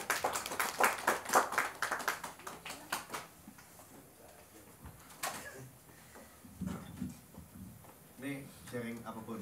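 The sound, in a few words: audience clapping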